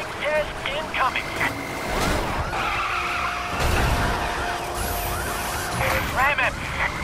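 Car tyres screech and skid under hard braking in the driving game The Crew, with long wavering squeals over engine rumble and faint siren tones while muffled voices talk over a police radio.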